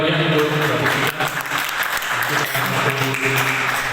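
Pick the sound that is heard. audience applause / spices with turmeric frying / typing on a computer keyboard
audience applause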